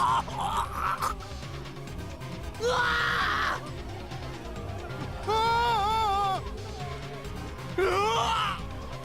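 In the game Chaos;Child, panicked students scream inside a gym in several loud, wavering bursts over a murky, rumbling game soundscape.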